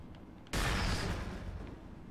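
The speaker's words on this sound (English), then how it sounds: "I can just use my grenade launcher" A grenade launcher fires in the video game Cryptark, one sudden heavy boom that blooms into a rumbling blast and then fades over a couple of seconds, close and loud after a quiet lead-in.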